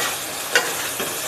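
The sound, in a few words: steamed taro stolons added to frying onions, sizzling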